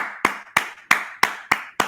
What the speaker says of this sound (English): I just want to big round of applause for everyone in cohort 12